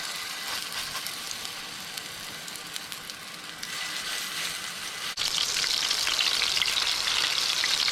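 Fish kofta sizzle steadily in a pan over medium heat, a dense continuous frying hiss that jumps louder and brighter partway through as more are added, with no talking.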